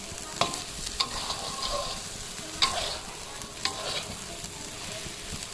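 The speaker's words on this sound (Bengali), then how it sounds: "ডালটাকে এমনভাবে একটু কষাতে হবে যাতে এর কাঁচা গন্ধটা যাওয়া অবধি আমি কষিয়ে নেব" Pea lentil dal being sautéed and stirred in a pan, with a steady soft sizzle and occasional sharp spoon scrapes and clicks. No one speaks.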